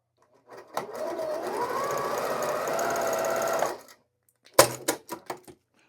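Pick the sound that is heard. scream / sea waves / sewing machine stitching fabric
sewing machine stitching fabric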